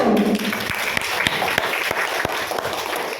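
Classroom applause for a student group about to present, a steady crowd of hands clapping with a few sharp louder claps standing out, continuous for about three seconds.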